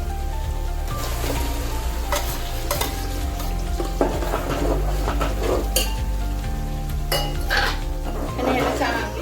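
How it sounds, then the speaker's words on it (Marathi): Tomato puree for pav bhaji going into a hot pan and being stirred, with steady sizzling and scraping clinks of a spoon against metal, all under continuous background music. "आता आपण ही टोमॅटोची प्युरी टाकूया"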